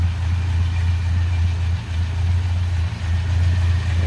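A 1953 Ford F100 pickup's flathead V8 idles smoothly and loudly up close, a steady low rumble with a couple of faint dips in an otherwise even drone, no voices.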